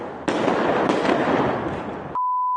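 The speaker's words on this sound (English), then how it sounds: "Let's go and see some fireworks." Fireworks at a New Year's Eve display burst in a dense crackling barrage of rapid pops, loud and continuous for about two seconds before cutting off.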